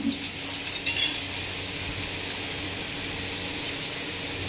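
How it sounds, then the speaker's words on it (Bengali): Prawns are stirred in a pan with a spoon, giving a few light metallic scrapes and clinks near the start over a steady background hiss. "এবার এটাকে ভালো করে নেড়ে ছেড়ে নেব"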